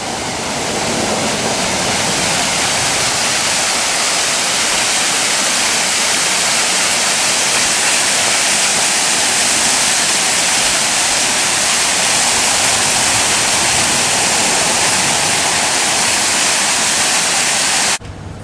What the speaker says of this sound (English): Another side of the road waterfall going through the Tillamook State Forest.